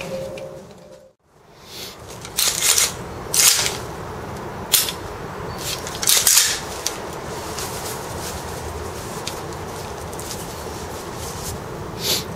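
Loading BBs into G&P PMAG magazines for a gas blowback airsoft rifle, giving a series of sharp, irregular plastic clicks and snaps over a steady background hiss, with no talk.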